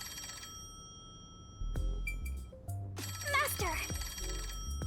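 A telephone rings in the video game Master Detective Archives: Rain Code, a repeated electronic ring with game music and sound effects layered over it.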